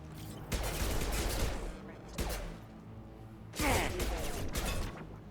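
Pistol gunfire in Mass Effect 2, three loud bursts of shots and impacts with ringing tails amid ongoing combat noise, spaced roughly a second or more apart, with a voice heard at times.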